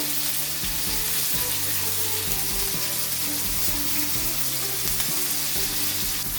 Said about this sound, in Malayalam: ആ കൂട്ടത്തിൽ തന്നെ നമുക്ക് ചിക്കനും ഒന്ന് മറിച്ചിട്ടേക്കാം.